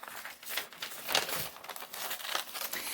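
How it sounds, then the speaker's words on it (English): Paper crinkles and rustles up close as scissors cut out a paper heart, quiet irregular snips and crumpling sounds without any voices. "then I'm going to cut this out"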